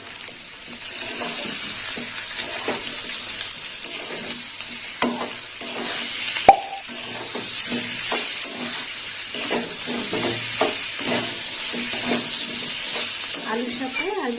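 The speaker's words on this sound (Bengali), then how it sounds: "লাল লঙ্কার গুঁড়ো দিয়ে দিলাম এবার একটু কষিয়ে নেবো" Potatoes and eggplant fry with red chili powder in a pan, a steady close sizzle and hiss broken by frequent scraping stirs and a sharp clink of the utensil.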